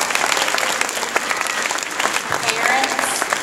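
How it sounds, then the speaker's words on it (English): An audience at a school chorus and orchestra evening concert claps loudly and continuously, a dense sustained round of applause with a few voices mixed in. "One big round of applause maybe for Miss Annie and Miss Lowry"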